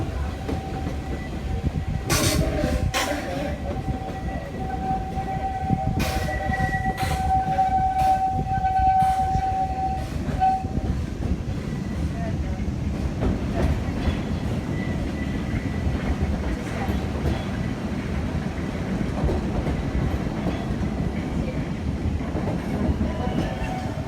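A Walt Disney World Railroad train rumbles and rattles steadily along the tracks with clattering wheels, while a long whistle-like tone sounds early on and then fades.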